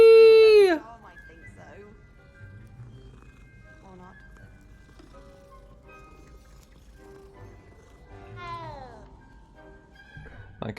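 A cat in the video game Hogwarts Legacy meows loudly at the start and again near the end, long falling cries amid quiet game ambience and soft footsteps.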